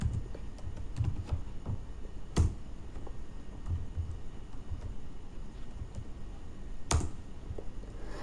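Someone types SQL code on a computer keyboard in scattered, irregular keystrokes with a couple of sharper, louder taps, close by over a low steady hum, with no voices.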